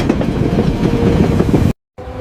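A passenger train rumbles steadily along the rails with a continuous rolling clatter, close and loud, then cuts off abruptly to silence before the rumble briefly resumes.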